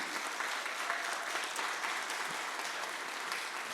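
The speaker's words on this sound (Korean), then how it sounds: "우리 권하린에게 큰 박수." A church congregation applauds a graduating student with steady, even clapping that fills the room at moderate volume throughout, with no voices heard over it.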